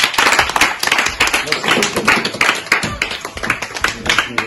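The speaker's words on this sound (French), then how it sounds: "On les applaudit." A group of people clap for children in dense, rapid, close-up applause that continues steadily throughout.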